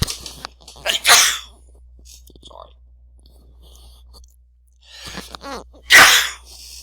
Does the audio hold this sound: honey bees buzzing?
no